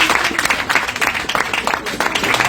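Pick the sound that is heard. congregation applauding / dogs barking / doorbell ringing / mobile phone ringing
congregation applauding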